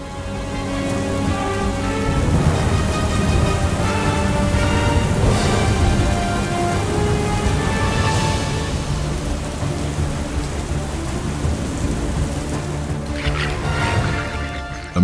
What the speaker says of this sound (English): Rain pours down in sheets, with wind gusts exceeding 90 miles per hour